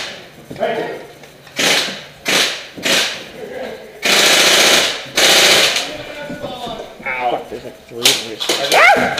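Airsoft guns firing during an outdoor skirmish game, with sharp bursts of shots near the mic in several clusters, some rapid and sustained, while players talk and call out between them.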